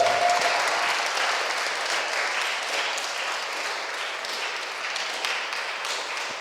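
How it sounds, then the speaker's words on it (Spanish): Sustained applause from an audience at a cultural-centre masterclass on film festivals, dense steady clapping filling the room for several seconds and fading slightly toward the end. "Un aplauso para Roger."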